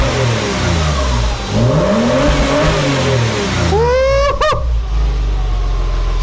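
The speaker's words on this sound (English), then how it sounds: "Oh, it's got a nice little burble now." A Porsche with a modified aftermarket exhaust revs loudly up close with a deep burbling note, then climbs to a sharp high rev that cuts off quickly.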